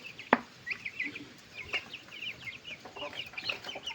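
Native chickens clucking in short, scattered calls, fairly close, with a sharp knock near the start and soft background noise throughout.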